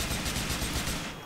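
Rapid gunfire from shooting people in GTA IV, a dense burst of repeated shots lasting just over a second, loud and close with no talk over it.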